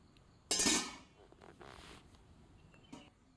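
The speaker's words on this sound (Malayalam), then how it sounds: "പാത്രം അടച്ചു വെക്കാം" A lid clanks down onto a cooking pot of cashew nut curry on the stove, a sharp metallic hit that rings briefly, followed by softer clatters.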